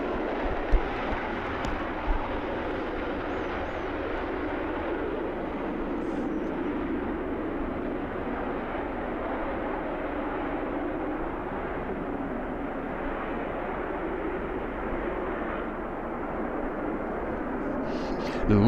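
Aircraft at the Royal International Air Tattoo airshow make a broad, steady roar of jet noise at moderate distance, unbroken and fairly faint throughout.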